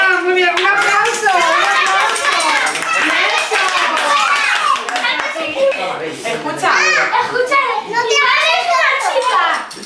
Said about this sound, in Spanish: Vamos, la familia Ram. Muy bien, un aplauso.